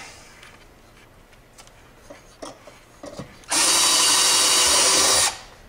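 A power drill bores a hole in a control box for an 8-channel relay, whining loudly and steadily for about two seconds after a few light handling clicks and taps.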